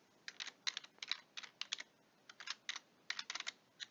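Quick, light clatter of keys on a computer keyboard in short irregular bursts with brief pauses, close and fairly quiet, no voices.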